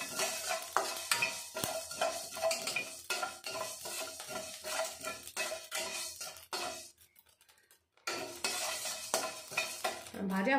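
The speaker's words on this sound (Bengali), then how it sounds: "আমি সবকিছু শুকনো খোলায় ভেজে নিচ্ছি।" Spices dry-roast in a pan and are stirred, with rhythmic scraping and clinking of a spoon against the pan, close and busy, pausing briefly before resuming.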